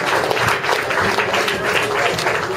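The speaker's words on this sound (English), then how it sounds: "Give a round of applause, y'all." An audience at a car show applauds a judge as he comes to the stage, dense clapping that holds steady throughout, with a faint voice briefly audible underneath.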